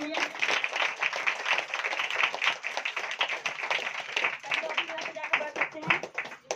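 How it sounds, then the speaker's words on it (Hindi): Congregation clapping during a Hindi Christian worship gathering, a busy rhythmic patter of many hands running throughout, mixed with voices. "जोरदार तालियां बजाएंगे लोग"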